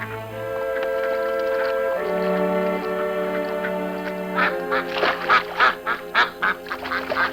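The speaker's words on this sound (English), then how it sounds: "Ducks weren't all that easy to catch, it seemed." Ducks on the Arctic tundra quack in a rapid series of close, fairly loud calls that grow busier toward the end, over a sustained musical background.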